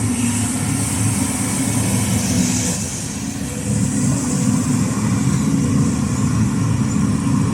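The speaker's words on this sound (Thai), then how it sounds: "320 GC เครื่องยนต์4สูบครับ" A Cat 320 GC excavator's 4-cylinder diesel engine runs at a steady idle, a constant low rumble with a slight dip midway, close and continuous with no talk.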